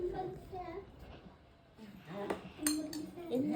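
A spoon clinks against dishes at a home birthday gathering, with a few light metallic taps near the middle and end, mixed with children's chatter and adult voices talking close by.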